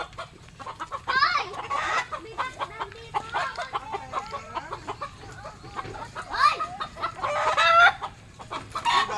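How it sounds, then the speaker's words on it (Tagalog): Chickens cluck on a small farm in Agos-Agos, with several drawn-out rooster crows rising above steady nearby clucking and faint background murmur. "see, there's so many chicken."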